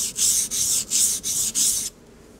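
A knife drawn across the fine side of a sharpening stone, five quick, rhythmic rasping strokes close by. Each stroke starts and ends sharply, and the sound stops after the last one.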